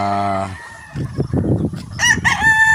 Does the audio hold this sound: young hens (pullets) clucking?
yes